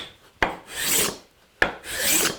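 A cabinet scraper draws across wood in two distinct strokes, each starting with a sharp catch and then a rough, raspy shaving sound that swells and fades, close and alone.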